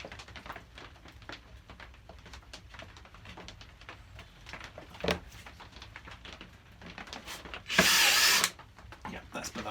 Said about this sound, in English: I think I need to countersink that one.